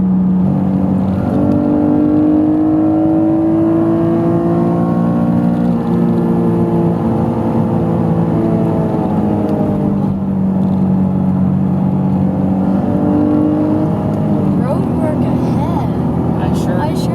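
Acura NSX engine pulling hard through the gears on a country road, a rising whir that climbs steadily, drops back at each shift and climbs again, loud and close, with a voice talking over it.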